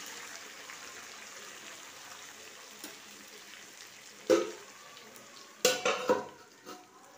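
Ginger-garlic being stirred in a metal pan on a gas stove: a few sharp clinks and scrapes of a utensil against the pan, loud and close, stand out over a soft continuous background.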